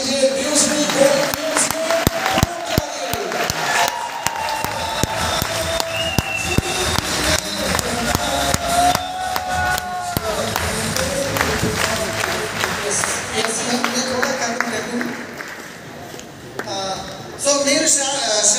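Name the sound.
audience applause welcoming speaker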